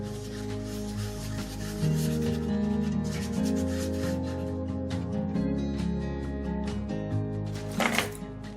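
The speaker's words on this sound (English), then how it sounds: "When that is dried, I sand the edges as well as the glue joints in between" Sandpaper rubs back and forth along the edges and glue joints of small wooden blocks, a close, steady scratchy scraping with uneven strokes, heard alone over faint background music.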